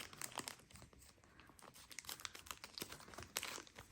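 A Danone Süprix yoghurt package with a collectible Marvel character toy inside is torn open, its plastic wrapper crinkling and crunching in close, irregular bursts.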